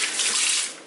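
Tap water runs in a sink, rinsing collard greens: a short, steady, close gush of flowing water with no voices.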